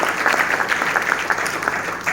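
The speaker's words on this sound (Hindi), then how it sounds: "एक बार जोरदार ताली मिलना चाहिए" An indoor audience at a company sales event gives loud, dense applause for top sales leaders, steady clapping filling the short stretch.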